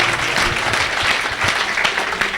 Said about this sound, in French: Oh, acclamez pour Jésus.